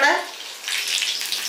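Hot oil is ladled over a potato snack frying in a pan, giving a soft, close sizzle that follows a brief voice.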